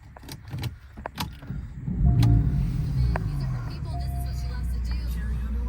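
A 2018 Porsche 911 Carrera S with PDK, about 18,000 miles, starts up: a few clicks and key jangles, then a starter crank and a loud engine catch, settling into a steady close idle.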